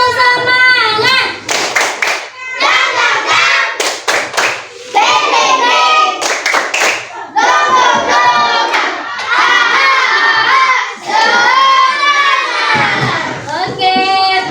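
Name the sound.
class doing a rhythmic spirit clap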